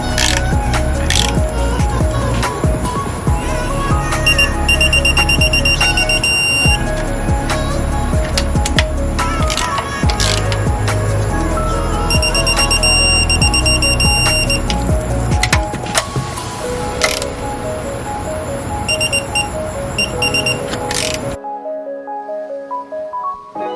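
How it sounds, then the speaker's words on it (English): A torque wrench tightens 10mm oil pan bolts to 18 foot-pounds on an LS 5.3 V8 during a rear main seal and oil pan job, with sharp intermittent clicks and ratcheting rising over a steady, noisy garage background. "So we're gonna torque these to 18 foot-pounds."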